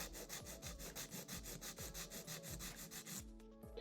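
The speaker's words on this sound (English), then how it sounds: "This is going to be a square, so I hold my file straight up and down, go straight across." Rapid, steady back-and-forth strokes of a nail file squaring off the tip of an extra-long acrylic nail, close and rasping, about a dozen even strokes before stopping near the end.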